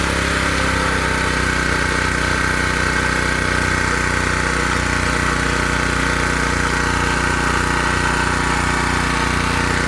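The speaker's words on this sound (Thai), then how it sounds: "นี้เครื่องสูบน้ำติดแล้วครับ" A small engine-driven water pump runs steadily at the edge of a pond, a continuous close, loud mechanical drone with a rattling vibration and no voices.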